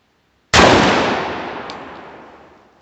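A Hatfield SAS semi-automatic shotgun fires a single 3-inch magnum shell: one sharp, loud, close blast that rings out and fades slowly over about two seconds, with no talk.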